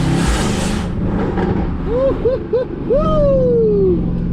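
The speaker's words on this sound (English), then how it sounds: "this is how my launch control sounds" A loud, tuned, straight-piped, catless Mercedes-AMG C63s engine roars on launch control, then revs in several quick rising bursts before a longer climbing rev that trails off, close and aggressive.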